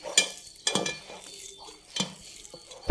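Spices including cumin being stirred in a hot pan for tepala chekka, a few sharp scraping strokes over a soft sizzle, close and fairly quiet.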